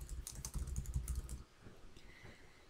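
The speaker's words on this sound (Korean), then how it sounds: "만들기 눌러서 머릿말 입력하고요." Typing on a computer keyboard while entering a header in a Korean word processor, a quick run of dense key clicks that tapers off into quieter, sparser taps, with no talking.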